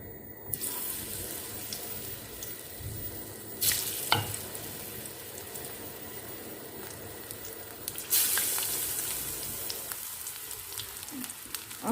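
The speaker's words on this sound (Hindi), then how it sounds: "इसको मैं निकाल के इसमें गोभी या मिर्चें फ्राई करूँगी" Cauliflower or chillies fry in hot oil in a home kitchen while pakoras are being made, giving a steady close sizzle with sharper bursts and clatter where pieces go in.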